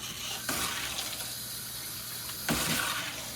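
Kitchen tap running while hands are washed at the sink, a steady hissing water flow with two short louder gushes or splashes, close and alone with no talk.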